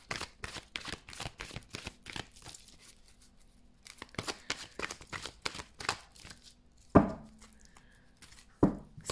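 Tarot cards being shuffled by hand in quick, rapid riffles, close and fairly loud, with two sharper slaps or snaps near the end and no talking.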